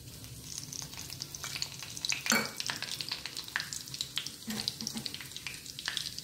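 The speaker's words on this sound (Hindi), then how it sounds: "जब ये ऑयल गर्म हो जाएगा तब हम इसमें थोड़ी सी हींग डालेंगे।" Asafoetida and cumin crackling in hot oil for kofta curry, a busy close sizzle with sharp popping bursts and light stirring clatter throughout, no talking.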